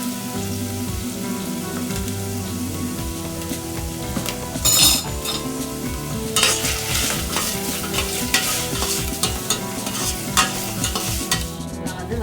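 Onion sautéing in a pan with oil for Indian-style pasta, a continuous close sizzle under frequent scraping and clinking of a spoon stirring against the metal pan.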